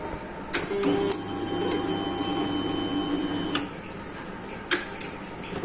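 A steady mechanical whirring with faint electrical buzz and a few sharp clicks from the throttle position sensor of a fuel-injected Kawasaki Ninja 250 working normally, close by and continuous, with no talking.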